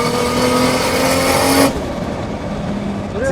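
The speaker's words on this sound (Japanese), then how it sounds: "ゲートが開くとすんごい音しますねこれ" Tuned 600-horsepower Toyota Soarer with a 1JZ engine, loud engine roar under load that cuts off abruptly partway through, followed by a quieter idle with faint whooshing from the wastegate.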